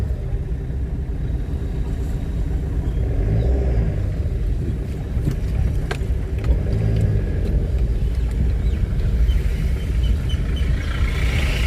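A car drives slowly over a badly potholed road between Nashik and Dindori, a steady close engine rumble with intermittent thuds and rattles from the rough surface.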